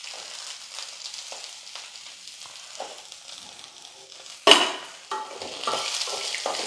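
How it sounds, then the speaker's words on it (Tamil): Peanuts, chopped onion and small pieces of coconut sautéing in oil: a low, steady sizzle with light scraping from stirring and one sharp clatter of a utensil partway through, then a louder hiss. "இது எல்லாம் சேர்த்து ஒரு நிமிஷத்துக்கு வந்து இந்த எண்ணெயிலே நல்லா வதங்கட்டும்"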